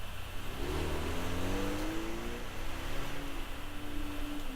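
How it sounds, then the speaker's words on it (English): An added car sound effect drives away with a mid-pitched engine revving and accelerating, steady and fairly faint, heard alone. "And I added the car driving away."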